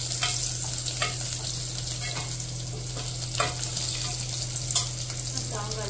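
Homegrown red chillies fry steadily in hot oil, a continuous close sizzle with occasional stirring scrapes and a low steady hum underneath, no voices.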